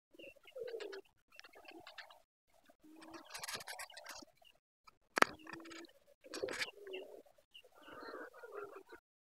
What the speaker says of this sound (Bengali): কবুতরগুলা জোড়া বাঁধার প্রস্তুতি হয়ে নিছে।